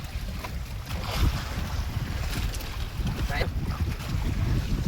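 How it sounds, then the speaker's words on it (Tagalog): Strong north wind buffets the microphone on a boat far out at sea, roaring steadily with gusts while water and waves wash underneath, and faint voices surface now and then. "Sobrang lakas sa norte sa laot."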